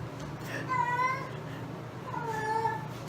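A cat meows twice at close range, with the two drawn-out cries about two seconds apart over low background noise.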